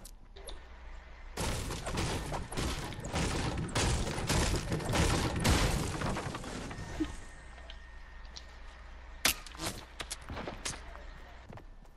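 Video game gunfire in Fortnite: a dense burst of rapid shots fairly close by for several seconds, then a few scattered, sharper shots after a lull.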